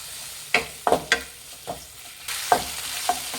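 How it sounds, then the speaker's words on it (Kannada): Chopped tomato and half a capsicum being stirred and fried in a pan, a handful of spoon scrapes and taps over a low sizzle, close and unhurried with no talk. "ಒಂದು ಟೊಮೆಟೊ ಹಾಕ್ತಾ ಇದ್ದೀನಿ ಸಣ್ಣ ಕಟ್ ಮಾಡಿರೋಂಥದ್ದು ಮಿಕ್ಸ್ ಮಾಡಿ ಇದು ಚೆನ್ನಾಗಿ ಬೇಯಬೇಕಾಗುತ್ತೆ"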